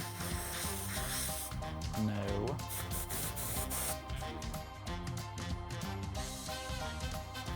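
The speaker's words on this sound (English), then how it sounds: "We're gonna spray this whole thing gold." Gold spray paint hisses from an aerosol can onto a wedding cake in long, steady bursts, partly masked by loud music, with a voice speaking briefly.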